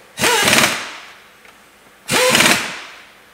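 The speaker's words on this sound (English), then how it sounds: "I just whack them up tight with the air gun" Two loud bursts of a pneumatic impact gun about two seconds apart, each a sharp rattling hammer that fades off, as it drives Torx 50 flywheel bolts tight on a 2-litre diesel Ford Mondeo Mk5 during a clutch fit.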